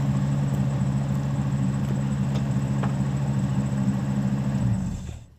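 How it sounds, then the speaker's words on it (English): A Ford Blackhawk super-dually truck with a V10 engine idles close by with a steady low drone, then shuts off near the end and falls silent. "I want to talk over the sound of the truck."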